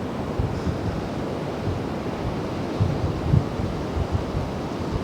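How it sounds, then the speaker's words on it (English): Ocean waves break on Australia's Limestone Coast, a continuous full roar of surf with rolling low swells and some wind buffeting the microphone. "That's a bit of a wave."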